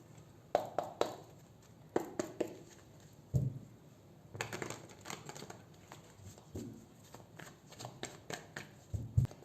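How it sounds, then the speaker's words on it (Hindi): Tarot cards being shuffled and drawn: a series of crisp riffling and flicking bursts, close and soft, in irregular clusters with brief pauses between. "पहले मैं और कार्ड्स निकालती हूँ"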